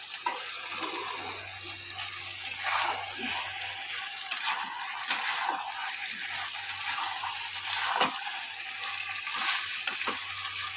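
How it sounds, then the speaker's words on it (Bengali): Water poured into a pan of cooking chicken skin, a steady close-up gush and trickle with light sizzling and occasional clinks, no talking. "অল্প জল দিয়ে দেবো।"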